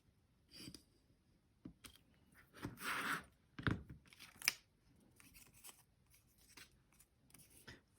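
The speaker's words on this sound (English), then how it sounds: "the first thing I'm going to do is to cut out this white rectangle so this becomes an open frame" Scissors cutting a white rectangle out of a paper craft tag to make an open frame, heard as a series of close, crisp snips and paper rustles in bursts, with quiet pauses between cuts.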